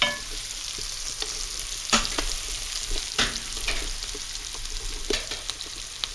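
Onions frying in a pot crackle with a steady sizzle, while a spoon now and then scrapes the bottom with sharp, quick strokes.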